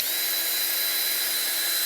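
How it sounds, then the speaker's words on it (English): Power drill running at its lowest speed while polishing a 3D printed part, a steady high-pitched whirring drone held evenly throughout, close and alone. "if you have a drill, which hopefully you do, is just drop it down to speed 1"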